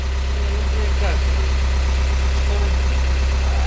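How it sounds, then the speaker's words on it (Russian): A car engine idles with a deep, constant low rumble, while faint voices speak briefly over it. "Тебя все равно слышно не будет из-за этого рокота мотора"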